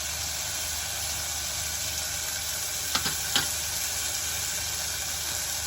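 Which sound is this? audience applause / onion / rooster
onion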